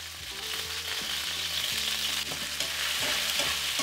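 Beef browns in a hot stir-fry pan for pepper steak, a dense, even sizzle close up with faint stirring scrapes throughout.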